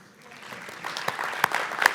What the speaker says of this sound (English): so we should definitely be clapping